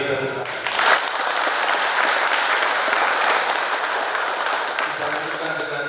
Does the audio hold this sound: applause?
yes